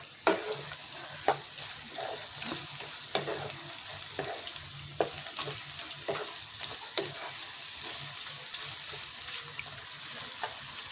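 Green chillies from a home-grown plant fry in a pan over a raised gas flame, with steady oily sizzling and repeated scraping stirs throughout.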